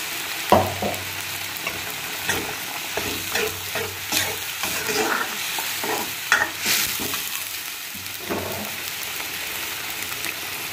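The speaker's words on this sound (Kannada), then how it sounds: "ನೋಡಿ ಇವಾಗ ನಾನು ನೀರನ್ನ ಸೇರಿಸ್ಕೊಳ್ತಾ ಇದ್ದೀನಿ" Okra mixture cooking in a pan as water is added, giving a steady close sizzle with repeated stirring and scraping strokes, no voices.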